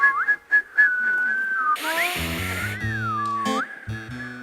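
Someone whistles a short melody of sliding, wavering tones, starting with a few clipped notes and then holding longer pitched lines, close and clear with no talking.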